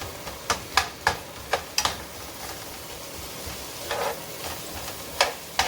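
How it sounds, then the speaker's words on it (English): Onions sweating in a pan over high heat for a seafood sauce give a soft, low sizzle, broken by sharp intermittent clicks and scrapes of stirring at close range. "Now I'm going to let these onions cook down"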